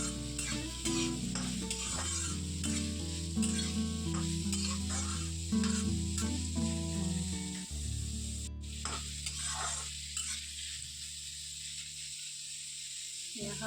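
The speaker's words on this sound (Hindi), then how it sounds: "यहाँ पर मैंने प्याज डाल दिए हैं और लहसुन और मिर्च बड़ी बड़ी डाली है, ताकि मैं तेल से इसको निकाल दूँगी।" Onions, garlic and large chillies frying in hot oil in a home kitchen, a steady close sizzle with repeated stirring scrapes and utensil clinks, the sizzling continuing alone toward the end.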